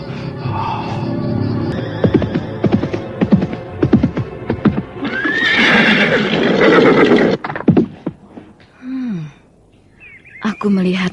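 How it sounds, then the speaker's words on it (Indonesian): Radio drama sound effect of a horse: hoofbeats thud in an uneven run, then a loud close whinny rises and breaks, followed by snorting and quieter neighs near the end, with speech-like vocal textures mixed in. "Aku mendengar derap kaki kuda."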